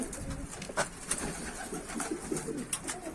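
Turkish tumbler pigeons coo softly at close range over a quiet outdoor background, with a few brief wing flutters and small calls scattered through a short stretch.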